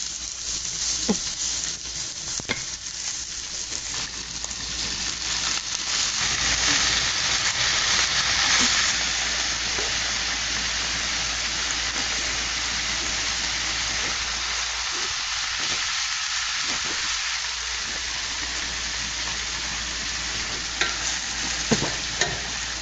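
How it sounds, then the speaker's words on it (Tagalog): Cornstarch- and flour-coated chicken fries in hot oil. Loud, continuous crackling sizzle with bursts of spattering and occasional clinks of a utensil, no talking. "pwede natin itong i-prito. Prito na natin"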